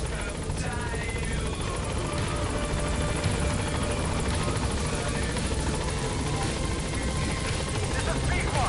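The Pequod helicopter from Metal Gear Solid V arriving at a landing zone, its rotors a loud, constant droning thrum filling the whole stretch, with a voice speaking over it.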